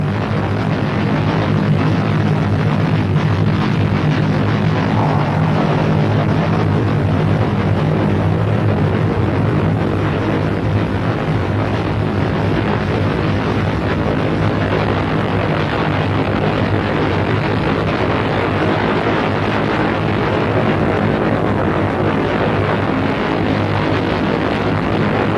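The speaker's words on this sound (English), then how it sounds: "It was not by chance that Apollo 7 lifted off only 2 3/4 minutes after the appointed moment" An Apollo 7 Saturn IB rocket lifting off, a loud continuous low roar with rumbling throughout, steady and sustained, heard from a distance with no voices.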